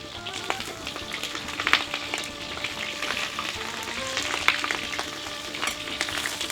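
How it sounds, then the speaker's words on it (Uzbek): Potatoes frying in oil in a cauldron for Uzbek qozon kabob, a steady dense sizzle with occasional pops and crackles, close and continuous without talk. "Birinchi kartoshkani qizartirib, qo'g'irtirib olamiz o'rtoqlar."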